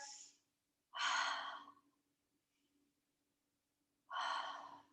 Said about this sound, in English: let's just take a couple of long, deep breaths here.